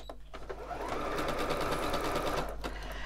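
A sewing machine runs a wide zigzag stitch around the edge of a small fabric Christmas tree ornament, a steady close whirring that starts after a brief pause and runs continuously without talk.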